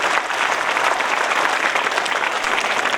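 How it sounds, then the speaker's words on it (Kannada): A large devotional gathering bursts into loud, sustained applause, thousands of hands clapping in a dense continuous roar that holds steady throughout. "ಜೋರಾದ ಚಪ್ಪಾಳೆ ಇರಲಿ."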